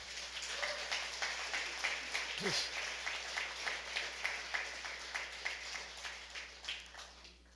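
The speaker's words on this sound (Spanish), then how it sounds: "alguien tiene que aplaudir esta verdad" Congregation clapping in rhythm during a church sermon, soft and somewhat distant, with regular pulsing beats under a low steady hum and a brief vocal sound partway through.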